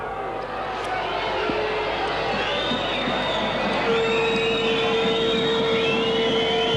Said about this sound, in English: Crowd here getting a bit upset.